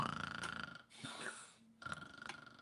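A voice imitates a dog's loud snoring, with rough, rattling inhales and exhales in a few heavy breaths close to the microphone.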